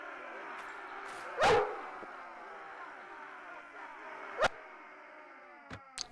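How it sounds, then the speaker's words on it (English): A dog barking in Mount & Blade Warband, with two loud sharp barks and a few shorter yips later, heard over a quiet background with someone talking. "There's my doggy."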